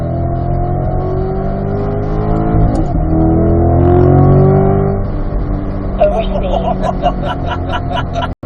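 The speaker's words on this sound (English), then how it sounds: "when I downshift it, that's when you heard the engine rev up" A Corvette engine drones steadily inside the cabin, then rises in a quick rev on a paddle-shift downshift while talk and crowd noise murmur in the background.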